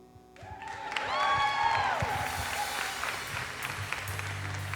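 A congregation applauds at a baptism service, the clapping rising quickly and holding steady as a dense, moderately loud wash, with a few sustained tones sweeping across early and a low hum underneath.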